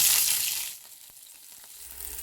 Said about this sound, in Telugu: స్టవ్ని సిమ్లో పెట్టుకొని ఈ ముక్కలను వేసేసుకొని ఫ్రై చేసుకుంటాను